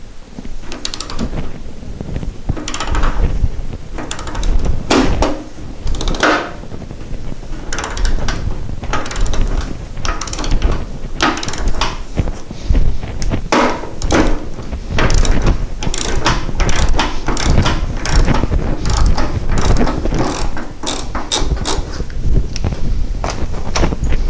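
A socket ratchet clicks rapidly and repeatedly while working on the fuel tank fitting of a Porsche 912, close and loud in uneven bursts of turning strokes, with some clunks and handling noise.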